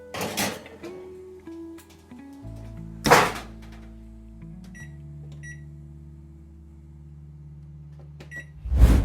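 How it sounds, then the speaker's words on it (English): Cake pans set side by side on the middle rack of a home oven: a clunk, then a loud thunk of the oven door, a steady humming drone with shifting tones and faint beeps, and another clunk at the end. No voices. "I'm gonna go ahead and put this in the oven"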